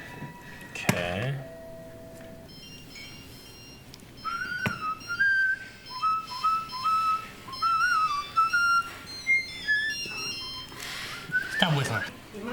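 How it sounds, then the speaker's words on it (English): A person whistles a wavering, tuneful melody of several rising and falling notes at moderate volume, with faint talk and a couple of sharp knocks around it. "Stop whistling."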